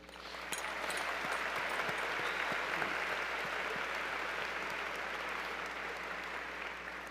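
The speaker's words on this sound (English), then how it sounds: "can we have a round of applause for all the parents in this building?" A graduation ceremony audience at Lake Mary High School applauds the parents, giving full, sustained applause from a large crowd in a big hall that swells quickly and holds evenly to the end.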